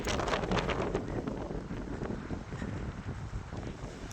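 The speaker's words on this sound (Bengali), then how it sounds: "হাওয়া" Strong gusty wind buffets the microphone on the Sandakphu mountain trek at dawn, a loud continuous roar with rising and falling surges throughout and no clear voices.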